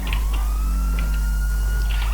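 Police siren wailing in a Grand Theft Auto style driving game while the player is chased, a steady rising and falling tone that carries continuously and loudly over engine rumble.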